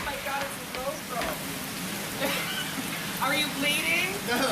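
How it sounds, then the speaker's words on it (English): Heavy rain pours during a big storm in Provincetown, a dense close hiss of drops on surfaces, while people talk over it in short excited bursts. "It's just raining and raining"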